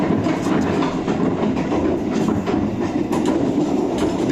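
Heard from aboard, the KA Parahyangan executive train crosses the Cikupang bridge with a steady loud rumble and rhythmic clickety-clack of wheels, constant throughout with no voices.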